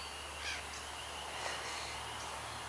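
Crows caw a few times at a distance, faint calls spread over steady outdoor background noise with a constant high whine, no talking.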